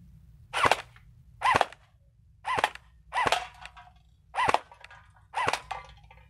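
Six sharp shots from a gel blaster SLR converted to an AEG airsoft rifle, in semi-auto mode, fire one at a time at an unhurried, slightly irregular pace, each a crisp snapping pop over a low background hum.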